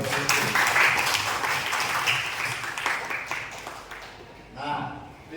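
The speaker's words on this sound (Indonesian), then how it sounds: "Tepuk tangan dulu untuk" Applause from a school class after a student's swimming reflection presentation, a burst of clapping that gradually thins out, dips near the end and then briefly swells again.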